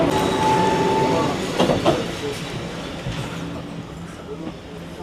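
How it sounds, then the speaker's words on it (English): A Südostbahn passenger train running between Lucerne and St. Gallen rolls along the rails, a loud rumble with clicking wheel beats that eases off as it continues. "So this train is operated by a company called Südostbahn, and it runs between Lucerne and St. Gallen"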